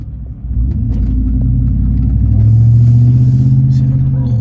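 A car fitted with long-tube headers and stock catalytic converters rumbles deeply at low speed, the exhaust swelling louder and holding a steady drone as it pulls past, close and dominant with faint traffic.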